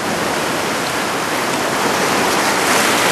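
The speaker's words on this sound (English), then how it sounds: "I hear the rumbling and the sound of the rain. Of the waves." Waves break and wash at Myrtle Beach as a steady, loud, broadband roar of surf and rushing water, with no pause and no voices.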